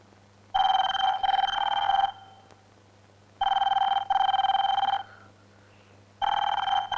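A telephone rings in three evenly spaced bursts, each a bright trilling double ring, with quiet gaps and a low hum underneath.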